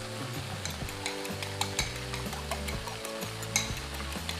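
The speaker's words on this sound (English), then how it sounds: "push the meat to the side of the pan, beat in one egg," Beaten egg sizzling in hot oil beside meat in a frying pan for Indonesian nasi goreng, with steady loud frying and regular scraping stir strokes, no voices.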